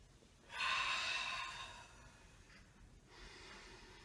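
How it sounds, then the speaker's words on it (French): Breathing during an interval cardio workout: one long, loud exhalation, then a quieter second breath a couple of seconds later, with no talking. "On inspire et on expire."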